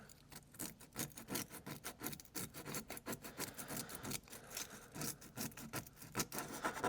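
Steady rhythmic scraping of a scraper tool across the wooden cabinet of a 1970s speaker, either a Pioneer CS-66E or a Kenwood LS-403, with repeated close, rasping strokes and no talking.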